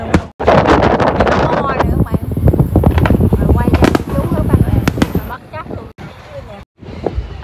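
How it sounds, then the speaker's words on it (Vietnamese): Fireworks at a July 4th celebration burst in rapid, crackling volleys nearby, loud and nearly continuous for several seconds, with people talking and exclaiming over the blasts. "Muốn coi bắn pháo hoa chỉ đứng đây coi thôi à."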